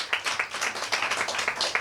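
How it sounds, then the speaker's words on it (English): An audience applauds a staff member at a talk, a dense, steady patter of many hands clapping at moderate loudness with no voices over it. "Just give her a big round of applause as well."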